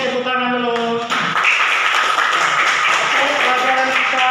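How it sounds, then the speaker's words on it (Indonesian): A school class claps together in a steady patter that follows a short stretch of a voice, the clapping lasting several seconds at close range. "Oke, tepuk tangan dulu."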